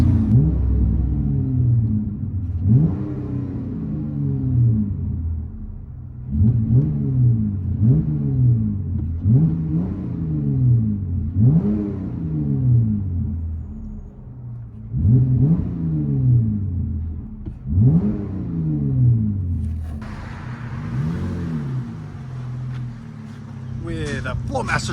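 From inside the cab, a RAM 1500 3.6L V6 with a Flowmaster Super 4 exhaust revs again and again in repeated rising pulls over a low, rumbling idle, with a voice talking intermittently.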